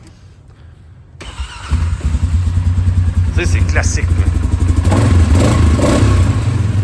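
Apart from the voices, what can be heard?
570 ATV single-cylinder engine starting and revving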